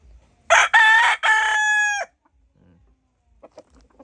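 A Kelso sweater straight-comb gamefowl rooster crows once nearby, a loud drawn-out call with a rising start and long held end, followed by a few faint clucks in a backyard breeding yard.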